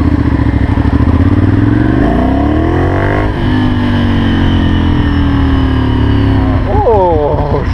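A Ducati Monster 796 motorcycle rides through Paris streets with a loud, close engine drone whose pitch rises and falls through shifts and revs, and a brief rev burst near the end.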